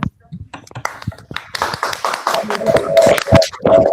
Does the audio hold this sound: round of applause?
yes